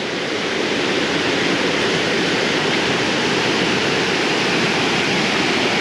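River water rushes through whirlpools and an eddy near Broken Hill, a dense, steady roar of flowing current that stays loud and even throughout.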